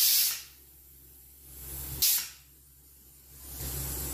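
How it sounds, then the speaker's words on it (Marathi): A pressure cooker holding a wild vegetable bhaji vents two sharp, loud bursts of hissing steam about two seconds apart, each fading into a low rumbling hiss, close up with no voices. "तर आता आपल्या भाजीला 1 शिट्टी झालेली आहे।"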